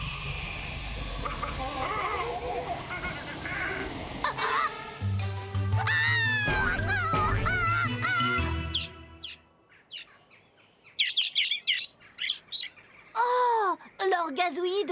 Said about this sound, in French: leur gazouillis devient très bruyant quand on l'écoute à travers l'entonnoir